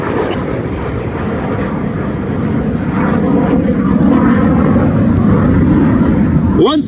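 RAF Red Arrows jets at an air festival flying display produce a loud, steady broadband engine roar that swells slightly as the aircraft pass overhead.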